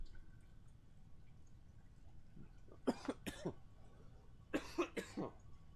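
Two bursts of coughing, each a pair of sharp close coughs, separated by a couple of seconds of quiet room hum.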